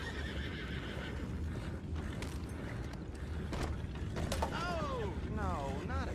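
Horses whinny twice in Red Dead Redemption 2, rising and falling neighs near the end over a continuous ambient bed of hoof clatter, creaks and background murmur.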